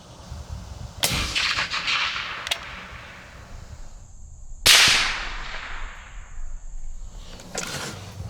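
A 30-30 rifle fires sharp, loud shots at a turkey target about 208 yards away outdoors. Each crack rings out alone and trails off into a fading echo, with a fainter report in between.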